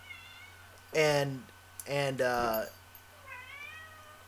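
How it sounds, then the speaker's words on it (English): A house cat meows twice, close and loud, with drawn-out rising cries, then gives a softer, more distant third meow, heard over a quiet room hum with a brief spoken word. "My cat's gonna be acting crazy this whole stream"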